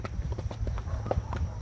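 Horse hooves clip-clop in a quick, uneven rhythm of sharp knocks at a parade, fairly close and continuous with no speech over them.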